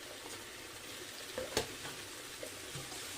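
Potatoes and soybean chunks frying in a pan, a faint, steady sizzle with a few soft stirring clinks, heard alone without talk.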